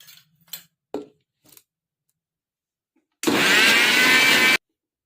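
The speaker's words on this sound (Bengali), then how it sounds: "আমি এখনও মিক্সার গ্রাইন্ডারে ফেটিয়ে নেব" A few brief clicks and taps, then a mixer grinder whirs loudly for just over a second as it whips sooji (semolina) cake batter, stopping abruptly into silence.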